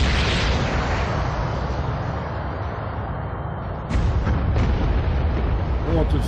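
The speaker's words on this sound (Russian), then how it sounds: "Идет взрывная волна. Приготовиться к удару." Deep rumbling blasts in Aliens vs. Predator fill the clip as a spaceship is hit, a sustained roar followed by a second loud boom near the end, with no talking.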